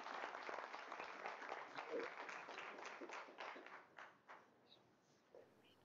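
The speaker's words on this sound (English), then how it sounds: "I hope you were clapping for them and not me." An audience claps at a school board meeting, a steady patter of many hands heard from some distance that thins out and fades over several seconds.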